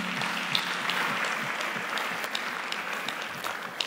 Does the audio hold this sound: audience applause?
yes